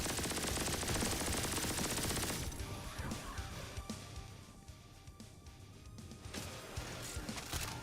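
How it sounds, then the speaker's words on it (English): Rockets impacting in the Turbo Overkill video game, a dense loud burst of rapid explosive blasts for about two seconds, then scattered booms and game effects trailing off. "All of our rockets hit at the same time."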